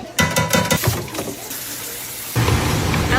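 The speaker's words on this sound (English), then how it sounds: "I don't like all that oil and slime, so I always rinse my beans off" Canned beans being rinsed under a running kitchen tap, a steady splashing water rush with a few knocks from the can at the start.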